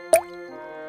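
A single water drip plops indoors in a rain-flooded, leaking house, one sharp close drop with a ringing tail fading out, nothing else around it.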